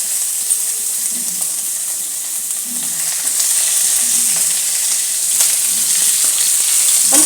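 Onions fry in hot oil with cumin, a continuous close hiss and sizzle with occasional soft clinks and stirring scrapes, steady and fairly loud throughout.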